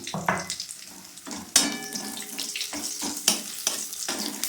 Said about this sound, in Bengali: এর মধ্যে দুটো তেজপাতা, দুটো লঙ্কা আর 1 চামচ জিরে ফোড়ন দিলাম।